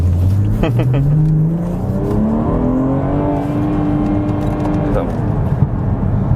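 A BMW 340i Touring engine revs up through a gear, pitch climbing then dropping at a short shift, with a brief exhaust crackle; a voice talks over it.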